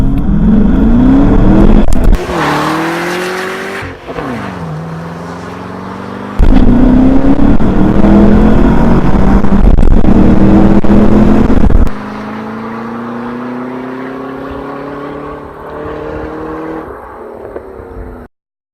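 A 2011 Cadillac CTS-V Coupe launches hard, its engine climbing through rising revs in loud surges with brief dips at gear changes, heard from inside the car.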